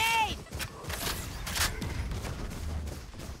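Gunfire in the Valorant video game, a rapid burst of sharp shots followed by several more spaced cracks, loud and close, with voices and game sounds mixed in.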